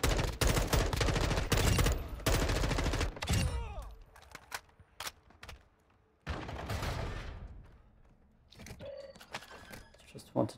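Rapid gunfire in the video game Warzone 2.0 DMZ comes in loud bursts during the first few seconds. A shorter volley follows after a pause, then scattered shots and a beep, with a voice talking at times.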